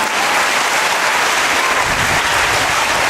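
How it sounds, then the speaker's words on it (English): Loud, steady applause from a large group at a school Teachers' Day event, dense clapping filling the whole stretch without a break. "let's give them a big clap."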